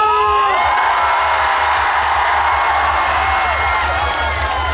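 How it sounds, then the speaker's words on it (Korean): A festival crowd at a Cheongyang chili pepper and goji berry culture festival concert claps and cheers loudly, with whoops and shouts rising over ringing sound-system tones for a few seconds. "우리 청양고추와 구기자를 사랑하는 마음으로 박수와 함성!"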